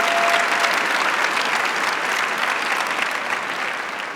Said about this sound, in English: please join me in giving a round of applause to the 187 students who've earned their bachelor's degrees